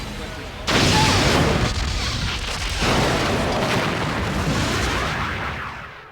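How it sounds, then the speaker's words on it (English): Heavy Borg cube weapons fire from a space-combat game: a sudden loud blast erupts, then sustained rumbling explosions and booming bursts roll on for several seconds, gradually fading. "The Borg cube is firing."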